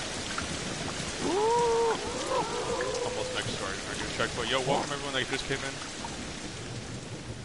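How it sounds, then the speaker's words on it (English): Rain and rumbling thunder in the video game Ancestors: The Humankind Odyssey, a steady wash of rainfall under someone talking, with game creature calls and effects in between. "Please stop raining. Rain is starting to get a little annoying."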